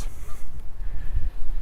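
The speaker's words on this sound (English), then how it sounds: "Hello, geese." A flock of geese honks close by on a city walk in Regina, a few loud nasal calls in quick succession over faint outdoor background.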